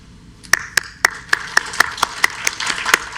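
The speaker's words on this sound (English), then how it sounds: "join me in a round of applause." At a graduation ceremony, about a dozen sharp, evenly spaced claps ring out close by in a quick steady rhythm, sounding like one or a few people clapping rather than a full crowd.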